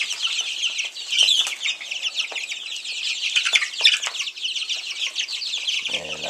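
Many chickens cluck and chatter densely in a crowded pen with bedding, a continuous overlapping chorus close to the listener, with occasional wing flaps.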